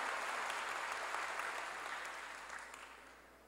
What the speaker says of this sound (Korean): 박수로 하나님께 영광을 돌려야 된다는 것입니다